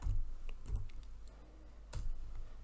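Keys tapped on a computer keyboard in a few sparse, quiet clusters of clicks over a low background hum, with no one speaking.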